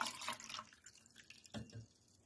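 Water poured into a tall 16-ounce cup makes a quiet splashing pour that comes in two short bursts with a brief pause between them. No one speaks.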